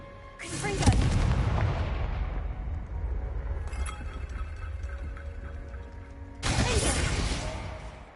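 Confringo blasting spell cast in Hogwarts Legacy: a loud explosive burst with crackling debris, a sustained rumbling tail, then a second sharp blast near the end.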